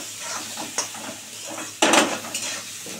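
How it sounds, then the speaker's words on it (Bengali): Spices and salt fry in a pan for a Bengali cauliflower-fish curry, giving a steady sizzle broken by a few sharp clinks and scrapes of a spoon against the pan, with no one speaking. "এবার এটা একটু ভালো করে ভাজা ভাজা হোক বন্ধুরা"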